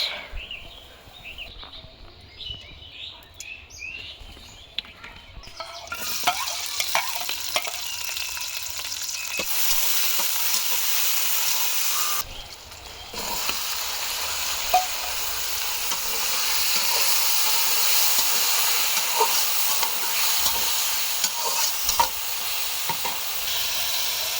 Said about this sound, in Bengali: এখন আলু ভাজিটা করে নিব, তাহলেই রান্না কমপ্লিট।